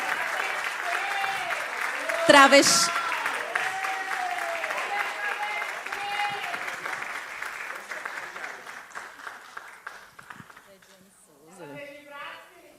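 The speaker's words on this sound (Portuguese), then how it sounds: "Uma salva de palmas para a Dediane Souza." Audience applause at a panel discussion, steady clapping in a hall with a voice speaking over it and a brief loud bump near the start, gradually tapering off toward the end.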